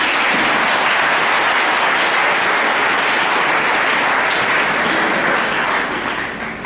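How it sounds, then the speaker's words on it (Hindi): A large audience at a motivational talk claps loudly and continuously in a thick, steady roar of applause that tapers slightly at the very end. "जोरदार तालियां बजाओ"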